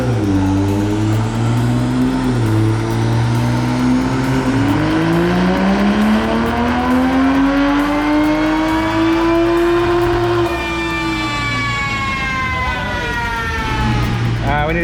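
A race-gas-fuelled car on a custom boost-pressure tune makes a dyno pull, its engine note climbing steadily in pitch as RPM rises over most of the run, then dropping off near the end, loud and continuous with faint voices underneath.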